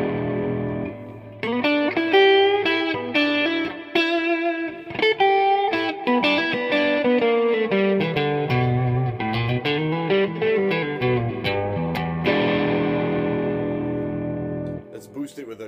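An electric guitar rings out through a Champ amp with an HSR-3 reverb, playing chords and notes that sustain and decay with a spacious tail.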